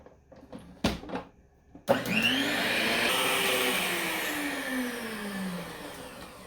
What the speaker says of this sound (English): Now we're going to mix everything all together.